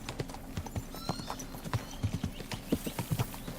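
Horse hooves clip-clop steadily at close range in the medieval game Kingdom Come: Deliverance 2, a rhythmic series of hollow knocks over a soft ambient bed with no talking.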